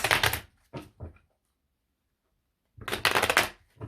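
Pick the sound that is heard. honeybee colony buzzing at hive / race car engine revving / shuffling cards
shuffling cards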